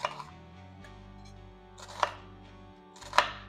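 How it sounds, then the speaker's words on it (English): A knife cuts onions into small pieces on a board, landing as a few distinct, sharp chops spaced about a second apart against a quiet, steady hum. "And I'm cutting these really small because it'll go a long way that way."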